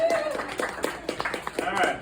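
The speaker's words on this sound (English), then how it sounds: "Give a round of applause" An audience claps in a round of applause at a party for a Spanish to English translation class, with irregular hand claps running continuously under loud overlapping voices.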